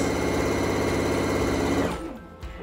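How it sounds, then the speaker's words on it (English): An Epic 95Q sewing machine stitching fabric runs fast with a loud, close, rapid rhythmic whir for about two seconds, then stops, leaving faint clicks. "Let's just try sewing something."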